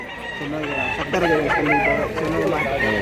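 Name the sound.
rooster crowing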